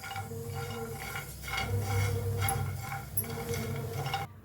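Dry coconut roasts in a pan while being stirred, giving a steady soft scraping and rustling with faint clinks of the utensil, continuous and close.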